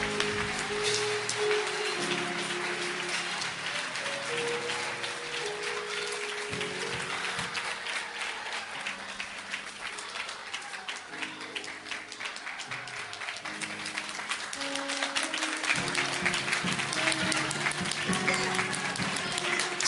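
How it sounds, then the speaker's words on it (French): A church congregation applauds continuously for about twenty seconds, a dense steady clatter of many hands with worship music faintly beneath. "Est-ce qu'on peut acclamer le Saint-Esprit?"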